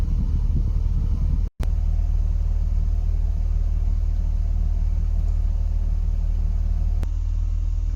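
A BMW Z3 engine runs with a steady, loud low rumble throughout, one brief dropout near the start and no clear rise in pitch, heard up close during air-conditioning work.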